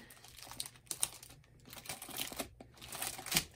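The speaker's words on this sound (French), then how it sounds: "Donc, on va ouvrir le sachet plastique." A plastic bag holding a diamond painting canvas is peeled open by hand, giving close, quiet crinkling and crackling in uneven bursts with short pauses.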